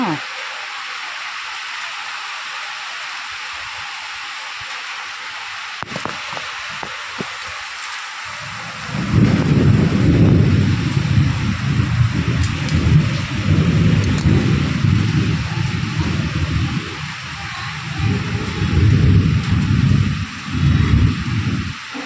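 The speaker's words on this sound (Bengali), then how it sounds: "দেখো মুষলধারে বৃষ্টি পড়ছে, আর যা মেঘ ডাকছে না।" Steady hiss of heavy rain throughout, joined midway by deep rumbling thunder that rolls on loudly and keeps returning.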